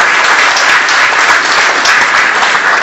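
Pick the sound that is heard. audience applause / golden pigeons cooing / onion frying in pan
audience applause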